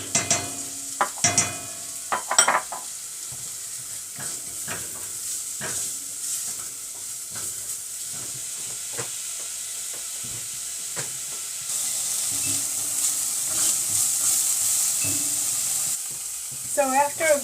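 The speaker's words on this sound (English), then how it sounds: "And I'm going to add the garlic" About a tablespoon of garlic added to a hot pan for a vegan corn, potato and poblano soup, with stirring clatter at first, then a steady sizzle that grows louder later.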